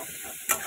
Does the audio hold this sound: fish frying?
yes